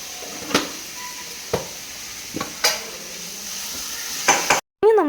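Onions sautéing in a pan while a utensil scrapes and stirs several times, sharp clinks against the metal over a soft sizzle, ending abruptly.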